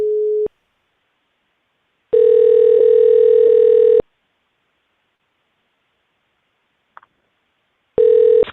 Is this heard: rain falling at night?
no